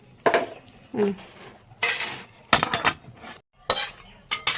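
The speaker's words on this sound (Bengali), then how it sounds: "এটা নাবিয়ে নাও খুন্তি দিয়ে কাটিয়ে কাটিয়ে নাবিয়ে দেবে" A metal spatula scrapes tomato jelly from a cooking pot into a bowl in a home kitchen, producing a series of clinks and scrapes in uneven bursts with short pauses between them, close and fairly clear, with no talking.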